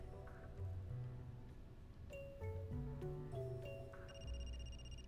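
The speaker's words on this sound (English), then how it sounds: "That's my phone." A cell phone rings in the video game Another Code: Recollection with a melodic electronic ringtone, a series of bright stepped chime notes repeating over a low background hum for several seconds.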